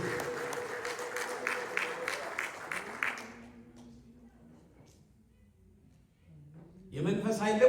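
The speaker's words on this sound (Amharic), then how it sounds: "እልልታ ጭብጨባ ይሆንለት።" Rhythmic congregational clapping at an Ethiopian evangelical Sunday morning church service, fairly faint and steady for about three seconds before fading into near silence, then a voice rises at the end.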